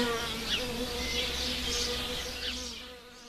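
A British solitary bee buzzes close by in a steady drone that wavers in pitch as it moves, with faint bird chirps in the quiet background.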